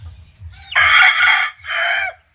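A gamefowl rooster crows loudly and close by in a breeding pen. The crow comes as one raspy call broken into two bursts over a low background of clucking.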